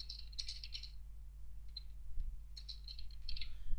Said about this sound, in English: I'm typing inside this application